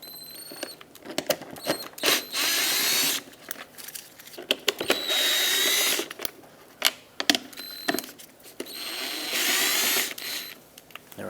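A power driver backs Phillips head screws out of the fog light bracket on a 2014-2021 Mazda 6, three bursts of high whirring about two seconds each separated by clicks and handling noises, close and loud, with no talking.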